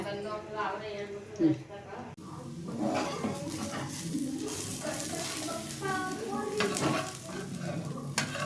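Sabsige soppu (dill) rava roti cooking on a stove, a soft steady sizzle with scraping and stirring sounds, a brief knock near the start, under someone talking.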